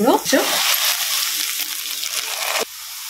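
Loud sizzling of onions and cashews hitting hot oil for a tiger prawn curry, a crackling burst that settles into steady frying with some stirring, cutting off abruptly near the end.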